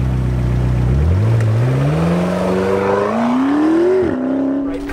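McLaren sports cars lapping Sonoma Raceway, one engine droning loud and close as its pitch climbs steadily through the gears with a brief dip near the end, no talk over it.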